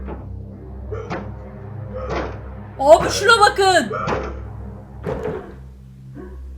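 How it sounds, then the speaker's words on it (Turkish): Someone bangs hard on a door in the horror game Life of Luxury, a burst of heavy, rapid thuds surrounded by scattered single knocks, with a voice speaking over it. "Kapıya vuruyor şu an deli gibi."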